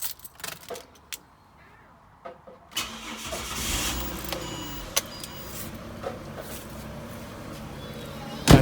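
Ford Barra engine in a Territory or Falcon starting after spark plug replacement, a few key and cabin clicks, then the engine cranking and catching into a steady close idle with brief clunks.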